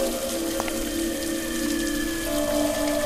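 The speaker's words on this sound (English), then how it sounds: "The water seems to be flowing." Continuous flowing water in the video game Scratches, in a waterworks setting: a steady, moderate wash of sound with faint tonal hums, unbroken and without speech.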